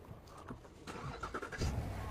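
A Chevrolet Tahoe engine starts up, cranking briefly and then catching into a low idle rumble, heard fairly close and alone.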